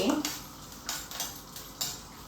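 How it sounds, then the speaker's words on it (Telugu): Tempering spices lightly frying in a pan as an idli snack is prepared: faint, soft sizzle with a few quiet stirring scrapes and utensil knocks, fairly low in level throughout. "అన్ని తాలింపు దినుసులు అన్నీ వేసేసుకుని కొంచెం లైట్గా వేగించుకుని"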